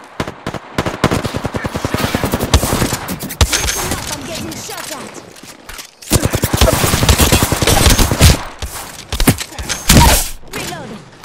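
Apex Legends gunfire crackles in rapid automatic bursts, loud and close, with short pauses between volleys and a voice speaking at times over it.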